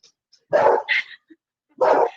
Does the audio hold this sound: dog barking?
yes